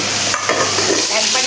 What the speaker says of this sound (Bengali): এঁচড় ভাজা তেলে এই ডুমু ডুমু করে কেটে রাখা আলুগুলো ভেজে নেব।